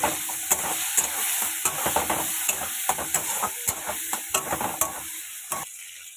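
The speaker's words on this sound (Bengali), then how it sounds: "এগুলো একটু হালকা করে আগে ভেজে নেবো" Tomatoes, peas and potatoes sizzle in a pan under a steady frying hiss, with a regular run of spatula scrapes and stirring knocks, close and fairly quiet.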